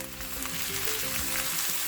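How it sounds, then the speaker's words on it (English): Finely sliced beef and onion sauté in oil in a pan for Japanese nikujaga, giving a steady, close, continuous sizzle and frying crackle with no talking. "I'm gonna saute it until no longer red"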